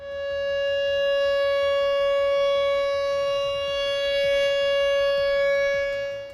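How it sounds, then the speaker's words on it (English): A tornado warning siren wails steadily and loudly, a sustained harmonic tone holding for several seconds, with faint rumbling background noise underneath and no voices. "the wail of a tornado siren can mean the difference between life and death"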